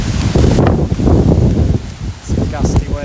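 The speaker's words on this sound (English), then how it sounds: "We've got a bit of heavy precip moving in now." Heavy rain and gusty wind from Typhoon Podul lash a storm chaser's spot in Taiwan, a dense roaring wash that surges and eases in waves, with a voice talking over it.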